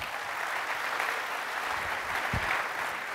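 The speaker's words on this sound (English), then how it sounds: "let's give him a big round of applause" A room full of people clapping, a steady dense applause throughout, with one brief low thump near the end.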